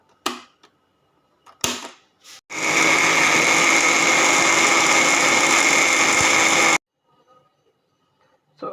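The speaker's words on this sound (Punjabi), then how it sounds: "ਆਪਾਂ ਗ੍ਰਾਈਂਡ ਕਰ ਲੈਂਦੇ ਆ" An electric mixer grinder blends spices with a little water for golgappa. The motor whirs loud and steady for about four seconds, framed by brief knocks and handling noises before and after.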